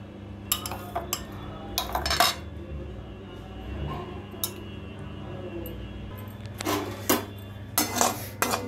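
A spoon scrapes and clinks against a bowl while chicken is mixed with onion paste and spices, in scattered sharp taps and clatters over a quiet background hum.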